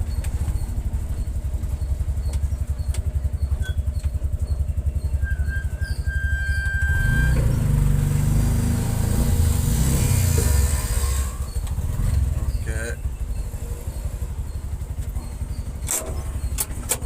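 A small three-wheeled load auto reverses toward a godown. Its engine idles with a steady close putter, swells into a louder rev for a few seconds midway, then drops back to a ticking idle.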